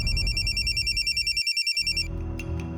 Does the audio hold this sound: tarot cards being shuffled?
no